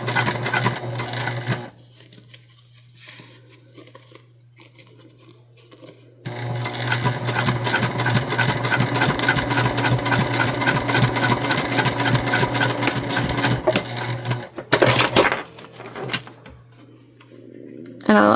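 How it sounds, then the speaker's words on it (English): A sewing machine runs in two bursts while top stitching an eighth of an inch from the edge of fabric beside a zipper on a small tote bag: a brief run, a pause, then a long steady whirring stretch, close and loud, with a short stop near the end. "just top stitching 1/8 of an inch away from the edge here."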